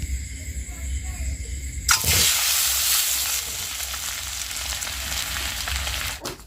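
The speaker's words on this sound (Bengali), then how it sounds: "চারটা ডিম করছি আমি ভেজে দিচ্ছি" Peeled boiled eggs drop into hot oil seasoned with salt and turmeric in a wok, setting off a sudden loud, steady sizzle that fills the rest of the clip after a quieter start.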